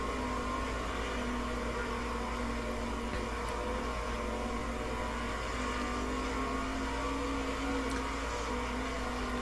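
Street stock race car engines drone at Eldora in the World of Outlaws 23 video game. A dense, steady buzzing roar holds at constant loudness throughout, with no voices.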